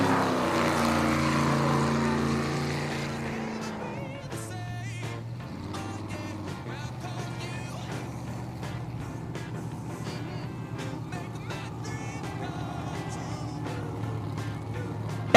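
Racing boat engine at an ASBR pro race in Yakima, Washington, a steady loud drone holding for most of the run after a brighter opening roar, with crowd or announcer sound faintly mixed in.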